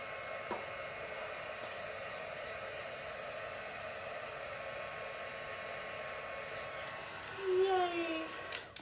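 A heat tool blows steadily while melting embossing powder on a birthday card, a constant airy whoosh that holds close and even throughout, with a brief louder rise near the end.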